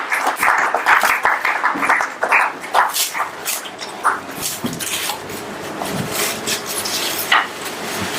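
An audience at a book launch breaks into dense, close applause that thins out after a few seconds into scattered claps and light clatter.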